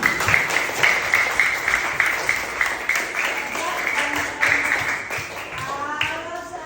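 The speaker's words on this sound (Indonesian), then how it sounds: "Tepuk tangan dulu buat kita semua." Students in a classroom maths lesson on triangles clap together on the teacher's cue, a moderate burst of uneven, fairly sparse claps, fading near the end as talk and a faint melodic tone come in.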